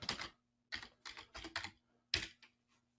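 Quiet bursts of typing on a computer keyboard, quick clusters of soft key clicks separated by brief pauses, close and alone.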